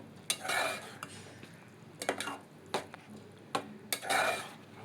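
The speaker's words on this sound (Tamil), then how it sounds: "இப்போ சேர்த்து இது எல்லாமே நல்லா கலந்து விட்டுக்கணும்" Spoon stirring cooked lentils through a mango and spinach curry in a pot, several separate bursts of scraping and mixing with quiet gaps between, close and fairly soft.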